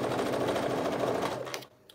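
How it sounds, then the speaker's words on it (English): A cover stitch sewing machine hems a T-shirt with a steady, loud, close mechanical whir that runs without a break, then slows and stops near the end. "I'm probably going to use my cover stitch."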